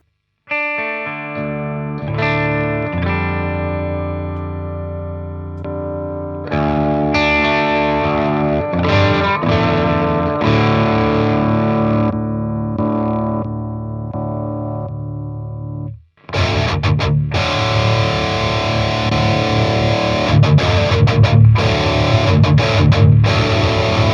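Distorted electric guitar through an Engl Ironball SE amp with the gain boost engaged, playing ringing chords and riffs for about fifteen seconds, then after a brief pause returning thicker and more saturated, loud and alone without talk.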